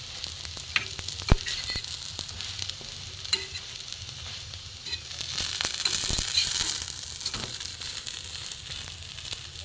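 Bread slices fry in a pan of light oil with a steady sizzle. Scattered clicks of stirring or turning come through, and the frying grows louder and hissier about halfway through. No one speaks.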